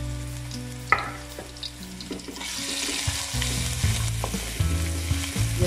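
Ginger garlic paste sizzles in hot oil with browned onions for a chicken and chickpea pulao, a steady close frying hiss broken by the clatter of a spoon stirring the pan.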